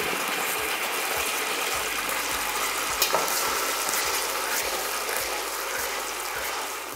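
Onion paste sizzling in ghee with whole spices including black peppercorns, cooking for mutton rezala: a steady loud frying hiss with repeated scraping and stirring knocks from a utensil, and no speech.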